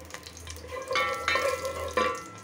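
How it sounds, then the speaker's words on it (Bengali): Hilsa fish curry with eggplant, potato and tomato cooks in a pan, with a watery bubbling and stirring in short bursts over a low steady hum, close and fairly quiet. "রান্না করতেছি ইলিশ মাছ দিয়ে, বেগুন দিয়ে, আলু দিয়ে ঝোল করব"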